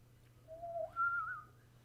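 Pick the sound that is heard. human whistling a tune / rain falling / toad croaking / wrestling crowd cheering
human whistling a tune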